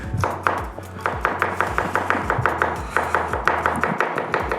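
A Japanese knife chops food on an Asahi cutting board in quick, regular strokes, each a soft close knock, forming a steady rhythm of roughly four to five cuts per second with no talk.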